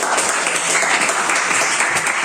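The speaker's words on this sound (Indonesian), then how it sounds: "Biar semangat, kasih tepuk tangan dulu buat yang kita sendiri." A classroom of students bursts into applause during an icebreaker in a teacher-training lesson, a brief, dense and even clatter of many hands lasting a couple of seconds.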